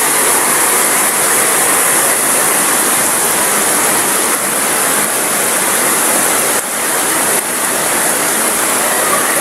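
Flood water rushes through a street in a dense, loud, unbroken roar that holds steady from start to finish.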